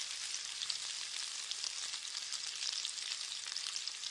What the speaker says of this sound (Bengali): টমেটোটা দিয়ে আরো কিছুক্ষণ কষিয়ে নেব।